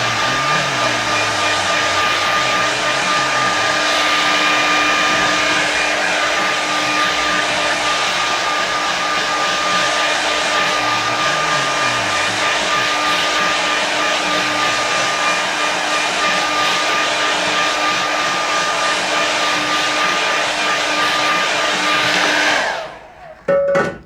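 A hair dryer blows steadily on a watercolour landscape painting, a loud continuous whirring drone that holds for over twenty seconds before cutting off abruptly near the end.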